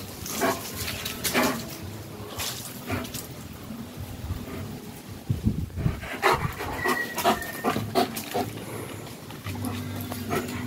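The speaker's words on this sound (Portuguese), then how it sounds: "Ele conseguiu se soltar, o cachorro." A German Shepherd pants heavily at close range with quick, rhythmic breaths, joined by snorts and grunts, under faint background sounds and no clear speech.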